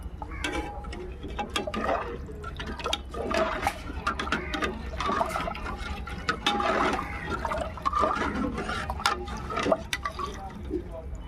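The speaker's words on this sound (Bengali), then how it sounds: "দেখুন বন্ধুরা, ডালটা দিয়ে দিলাম এবার গরম জলের ভিতরে, মুগ ডালটা।" Mung dal poured into hot water and stirred makes soft, continuous sloshing and watery swirling over a low hum, with a person talking throughout.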